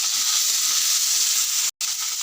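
Vegetables for chilli paneer frying in a pan, a loud continuous close sizzle with a very brief dropout near the end.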